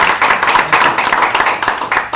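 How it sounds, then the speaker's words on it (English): Close, loud clapping from an audience at a health care reform talk, a quick irregular patter of individual claps lasting a couple of seconds. "join me in giving a round of applause to Mark"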